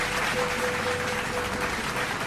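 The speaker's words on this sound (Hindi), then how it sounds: "एक बार ज़ोरदार तालियों से स्वागत करिए" An audience at a Hindi poetry evening claps to welcome a poet, a dense, steady patter of applause at moderate level, with a faint tonal hum running underneath.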